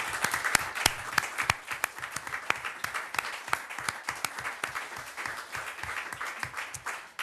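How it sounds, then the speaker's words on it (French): Audience applause at the closing of a seminar, a dense sustained patter of many hands clapping steadily throughout, fairly close and even in loudness, with no talking over it. "je voudrais franchement qu'on les applaudisse avec ferveur."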